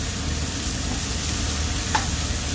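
Meat browns in a hot wok or skillet, giving a steady, even broadband sizzle throughout with one faint clink near the end, close and uninterrupted by speech.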